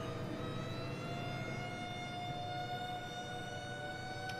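Fire truck and ambulance sirens in the Cities: Skylines city-building game, a steady wailing tone with stacked harmonics that holds loud and continuous throughout, with no talk over it.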